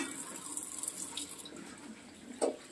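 A kitchen tap runs while someone washes their hands, a faint, steady trickle of water with a brief louder splash near the end.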